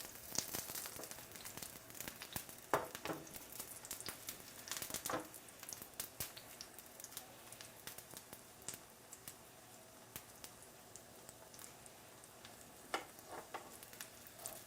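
Vegetables frying in a pan for ratatouille, a constant close crackling sizzle with scattered sharp pops and spatters throughout, no voices.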